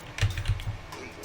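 A few quick keystrokes on a computer keyboard as a country name is typed into a weather search, close and crisp, with no talking.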